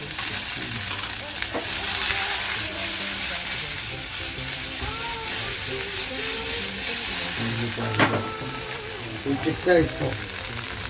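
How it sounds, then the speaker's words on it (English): Curry leaves sizzle in hot oil while methi muthias fry, a steady close crackling hiss running throughout with a few louder bursts near the end. "Add some curry leaves and the muthias go in after this."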